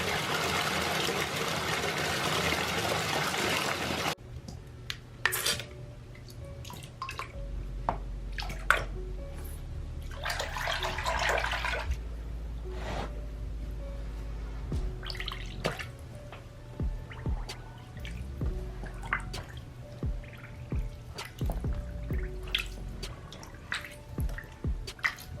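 Knit sweater being dipped into a basin of water for blocking, with soft drips, sloshes and splashes scattered over about twenty-five seconds, close and fairly quiet, after a brief burst of broadband noise at the start.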